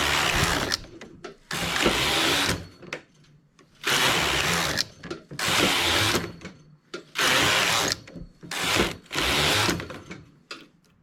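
A knitting machine carriage swept back and forth over tubular knitting gives repeated loud whirring, rattling passes of one to two seconds each, with brief quiet gaps between strokes.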